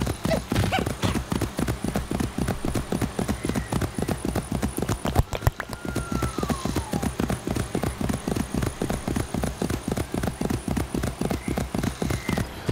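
Horse hooves clip-clop in a steady, rapid rhythm in Assassin's Creed II on PS5, loud and continuous with a brief whinny partway through.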